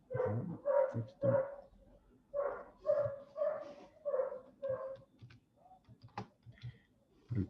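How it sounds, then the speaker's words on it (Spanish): A neighbor's dog barks in a steady run of about nine sharp, fairly close barks with short gaps, then falls silent except for faint ticking noises. "El perro del vecino está re pesado"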